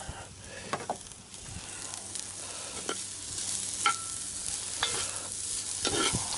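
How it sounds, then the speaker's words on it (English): Garlic and other ingredients sizzle gently in a pot of chili on a Weber kettle grill while a utensil stirs and scrapes through them in intermittent strokes. "Gonna get all that stuff down in there and stir it up a bit."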